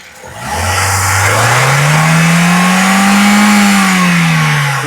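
A used car's engine is revved hard at close range, loud and alone. The pitch climbs smoothly, holds near the top for a moment, then eases back slightly.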